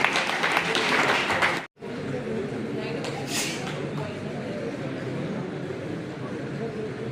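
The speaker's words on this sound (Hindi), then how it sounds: "जोरदार तालियों के साथ आपका अभिनंदन।" Loud applause rises from the audience at an Engineers' Day celebration honouring Visvesvaraya. The clapping is heavy for under two seconds, cuts out briefly, then carries on as a softer, steady patter mixed with crowd noise.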